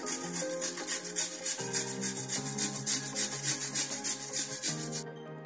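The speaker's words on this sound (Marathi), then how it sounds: "अगोदर आपण हे गाजर किसून घेणार आहोत।" Carrots being grated for carrot kheer, a steady rhythmic rasping of strokes across a grater, close and fairly loud, running continuously with background music underneath and no talk.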